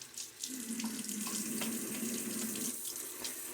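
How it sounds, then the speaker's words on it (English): Water from a bathroom tap splashes steadily into a sink for a few seconds during a wet shave, with no voices. "A little water splash now."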